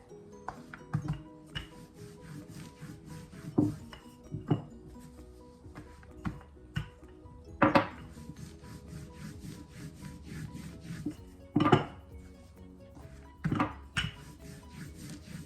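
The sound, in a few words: rolling out roti dough thin with a rolling pin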